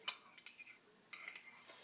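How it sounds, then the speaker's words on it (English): A spoon stirs sugar into a glass of lemonade, making a few faint, light clinks against the glass at irregular intervals. "I'm going to give it a good stir."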